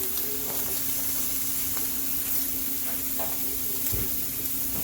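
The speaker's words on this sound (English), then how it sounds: "So you don't want your sausages to cook fully all the way before you start to scramble them." Sausages fry in a pan in a steady, close sizzle, with a continuous hiss and occasional soft pops and stirring clicks.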